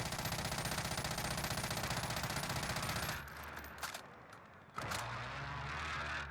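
A gun in the Warzone video game fires in a rapid rattling burst for about three seconds, followed by sharp mechanical clicks and clacks of a reload without a fast mag.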